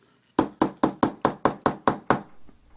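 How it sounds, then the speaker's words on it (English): Eight rapid, evenly spaced knocks rap on a bathroom door at close range, loud and crisp with no voices, ending in a brief faint rustle. "before knocking on the door"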